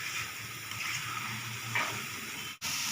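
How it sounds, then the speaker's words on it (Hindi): Carrot halwa roasting in a pan gives off a steady soft sizzle with faint stirring scrapes, close and continuous, with a brief drop near the end. "मैं हलवे को अच्छी तरह भून रही हूँ।"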